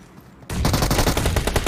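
Rapid automatic gunfire from a battle royale shooter during competitive scrims bursts in loud after a quiet half second, rattling on in a fast continuous stream of shots.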